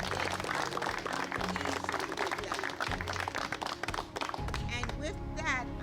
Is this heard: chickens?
no